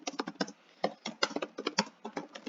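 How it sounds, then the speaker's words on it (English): Fingers type on a computer keyboard while editing a blog post in a WordPress Divi website, giving a close, steady patter of light plastic key clicks in short bursts with brief pauses, without any talk. "you can type."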